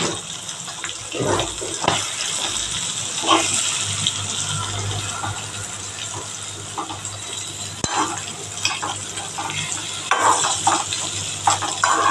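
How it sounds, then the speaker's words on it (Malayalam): Fish frying in a pan just after being turned, a loud, steady sizzle with bubbling and scraping that fills the whole stretch, with no one speaking. "മീൻ്റെ ഒരു വശമായി വന്നിട്ട് നമുക്ക് മറിച്ചിടാം"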